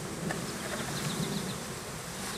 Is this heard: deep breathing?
no